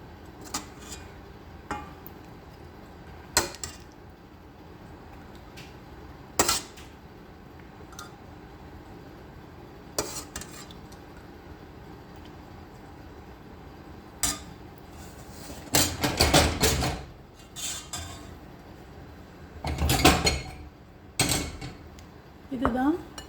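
A spoon clinks against a bowl while curd pachadi, a yogurt dish, is served, giving scattered sharp taps over a quiet background with a denser cluster of louder clinks toward the end.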